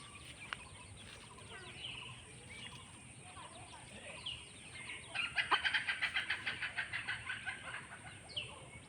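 Faint clucks from a native country hen and soft chick peeps outdoors, with a quick run of rhythmic clucking in the middle, distant and quiet against background noise.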